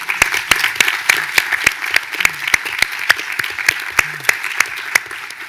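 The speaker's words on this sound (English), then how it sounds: "Let's give them all a round of applause." Applause at a state tourism and craft beverage summit for the event staff, a smaller audience clapping with distinct, fairly regular claps over a steady patter.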